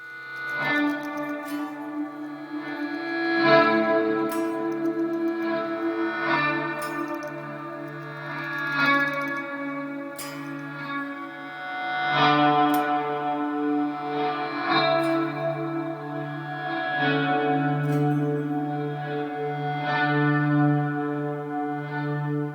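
Electric guitar notes swell in through an Eventide Space pedal's Reverse reverb, smeared by repeating delay echoes into a washy, ambient wash of sustained tones with no talking.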